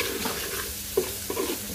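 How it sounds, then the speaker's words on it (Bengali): Prawns with spices are stir-fried in a pan with a steady background sizzle, broken by a few scraping stirs of a utensil against the pan. "চিংড়ি মাছ আমি এভাবে ভুনা করি।"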